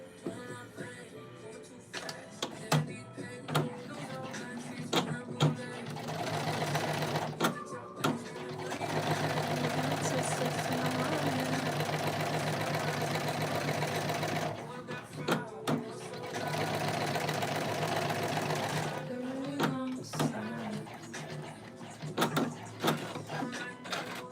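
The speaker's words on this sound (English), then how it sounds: "I'm just understitching right now" A sewing machine understitching trousers runs in long steady bursts of rapid mechanical stitching, close and fairly loud. Quieter pauses break up the runs, filled with handling clicks and fabric rustle.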